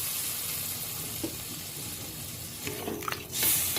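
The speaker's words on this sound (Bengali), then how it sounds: "ঝোলের জন্য জল দিয়ে দিচ্ছি।" Water poured into a cooking pot of potato, pointed gourd and egg curry to make gravy, a steady close splashing and sizzle that swells into a louder gush near the end.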